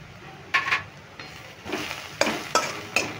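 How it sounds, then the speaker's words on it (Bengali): A spoon scrapes through salt, turmeric and cumin powder in a frying pan over soft oil sizzle, with several distinct stirring strokes and a steady low hum beneath; no one speaks. "এবার এগুলো আমি নেড়ে চেড়ে নেব।"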